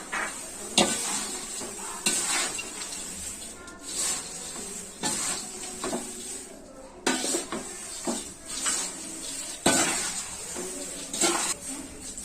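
Thin poha chivda with peanuts and coconut stirred in a hot pan over a medium flame, rhythmic scraping and clinking of a spoon on metal over a soft sizzle, repeated strokes every second or so.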